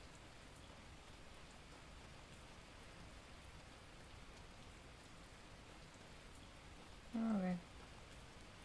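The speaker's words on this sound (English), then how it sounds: "Oh, it's raining." Steady rain falls throughout a Super Animal Royale match, a soft continuous hiss of drops, with a brief spoken word near the end.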